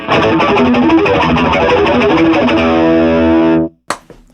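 Heavily distorted electric guitar with chorus sustains a thick, wavering chord of harmonics for a few seconds, then cuts off abruptly, followed by a brief string scrape.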